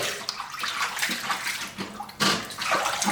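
Beef tripe rinsed under running tap water while making a home-style mao xue wang, a steady broad splashing rush that swells louder toward the end, with no talking.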